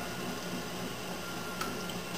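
Wet clay pulled up on a spinning pottery wheel while throwing bowls from roughly one-pound balls, giving a continuous soft squishing, slurping wash with a faint click near the end.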